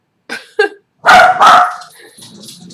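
A homestead dog barks twice sharply, then gives two louder, longer barks close by, answering a bigger dog outside, followed by faint background noise.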